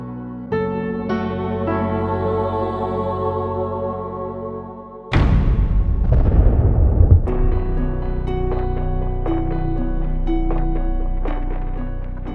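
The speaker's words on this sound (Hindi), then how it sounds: "ये बम फटने की आवाज थी" A bomb blasts on a pedestrian bridge near a bus stand: a sudden loud, booming explosion with a rumbling decay cuts through sustained dramatic music tones, which continue afterward.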